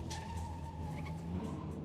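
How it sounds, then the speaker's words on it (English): A car skids with squealing tires during a chase in Better Call Saul, a brief engine drone under a sustained tire screech. "Oh, yes, a little Mike car chase."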